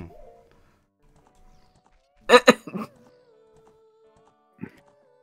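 Horse hooves clip-clop in the video game The Legend of Zelda: Ocarina of Time, with a short cluster of sharp steps and one later isolated step over an otherwise quiet background.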